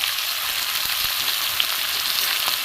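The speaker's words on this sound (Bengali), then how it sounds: "একটু ভালো করে ভেজে নেবো" Prawns and chopped banana stem fry in a pan for a Bengali chorchori, giving a close, continuous crackling sizzle with faint stirring scrapes and no voices.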